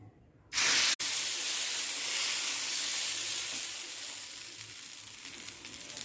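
Millet adai batter hits a hot pan with a sudden loud sizzle that settles into a steady, close frying hiss, slowly fading a little toward the end with no voices.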